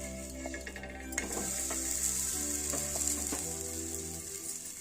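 Poha laddu mixture roasting in ghee in a pan on the stove, a steady close sizzle with a constant hum and faint scraping underneath, no voices.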